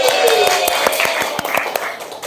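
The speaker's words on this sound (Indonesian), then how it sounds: "tepuk tangan untuk kelompok 4" A class claps for group 4 during a micro-teaching lesson. The claps are scattered and uneven, with sharp hand strikes spread through the clip and voices underneath.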